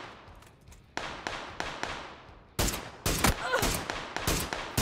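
Rapid bursts of gunfire ring out in the video game PUBG Battlegrounds, starting with spaced single shots and building to dense, loud overlapping volleys with sharp attacks and echoing tails.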